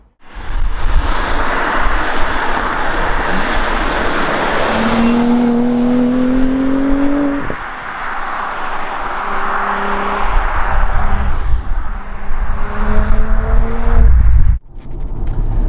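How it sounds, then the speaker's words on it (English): A B5 Audi RS4 Clubsport is driven, its engine droning loud and close inside the cabin, with a few rising revs through gear changes over steady road roar and no talking. "let's go and have a drive of this B5 Audi RS4"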